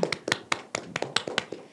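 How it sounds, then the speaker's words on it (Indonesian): A few people clap briefly for a student who holds a third-degree black belt, a short run of distinct, close hand claps with an uneven rhythm. "Wah, tepuk tangan dulu."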